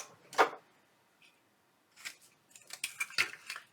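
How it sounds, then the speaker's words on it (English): Angle punch clipping paper corners for a trick-or-treat bag, a quiet sharp snip followed after a pause by a cluster of small clicks and crisp cuts, close and faint. "on the top side, do an angle punch like that"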